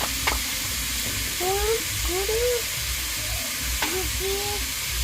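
Papaya leaves frying with turmeric in a pan, a steady sizzle and hiss under soft stirring scrapes, while a voice talks intermittently over the cooking.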